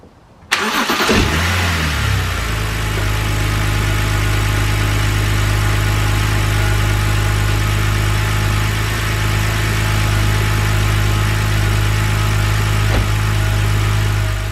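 BMW N52 engine after a rough-idle fix: a brief cranking start, then a rising catch and a steady, smooth idle that hums on evenly and loudly up close for over ten seconds, with no voices.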